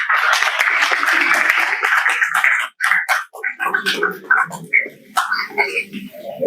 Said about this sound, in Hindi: जोरदार तालियों से स्वागत कीजिए हमारे आदित्य भाई चौकसी का।